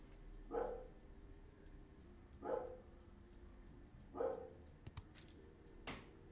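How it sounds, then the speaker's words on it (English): A neighbor's dog barks three times at even intervals, muffled and somewhat distant, over a quiet room tone, followed by a few sharp clicks and clinks near the end. "That is not my dog you hear barking"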